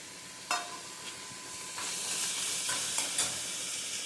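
Cooked sprouted horse gram being mixed and mashed by hand with coriander leaves, heard as soft squelching and moist rustling with a few sharper clicks, quiet and close, without talk.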